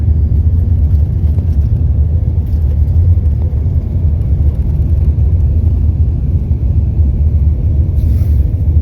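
Coach bus driving across a valley moraine on the road to Milford Sound, a loud, steady low engine and road rumble heard from inside the cabin, continuous and unchanging throughout.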